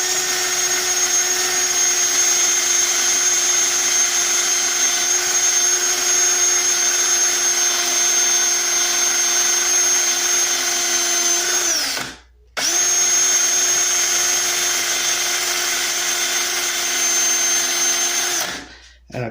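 Drill-mounted wire brush scrubbing rust off an old punch, a loud steady high-pitched whine with a brief stop midway before the spinning resumes, then winds down at the end.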